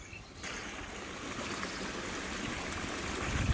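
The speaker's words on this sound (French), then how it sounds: "il y a un petit cours d'eau qui passe tout coupé avec un tuyau qui se jette directement dans le cours d'eau" A small stream beside a mink farm, fed by a pipe emptying into it, gives a constant close rushing and gurgling of water that builds slightly after a quiet start.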